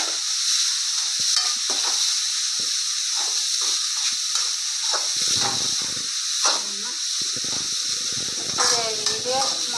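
Grated coconut with turmeric powder stir-fried in a hot pan, a steady bright sizzle running throughout with repeated scraping stirs of a spoon, close and fairly loud, with occasional voices in the background.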